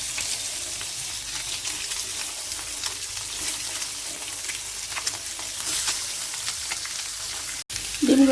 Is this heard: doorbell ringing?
no